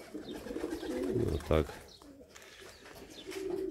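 Pigeons coo softly around a dovecote early in the morning while someone talks over them, their low murmuring steady across the clip.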